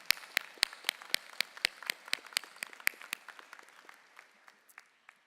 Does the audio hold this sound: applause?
yes